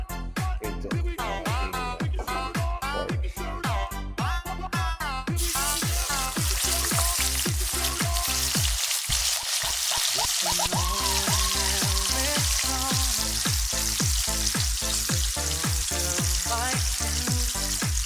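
Loud, continuous sizzling of pork frying in hot oil, with crackling bursts and occasional clatter, no voices.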